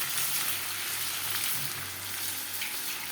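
Meat frying in oil with yogurt in a Bengali home kitchen, a loud, steady close sizzle and crackle that runs throughout with no voices.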